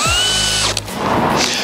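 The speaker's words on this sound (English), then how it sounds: "So we'll use the DCD999 with a 54 mil cell feed drill bit." DeWALT DCD999 drill driving a 54 mm self-feed bit on a 5 Ah battery, a loud close whine that spins up and bores steadily, then cuts off abruptly into a rattling spin-down.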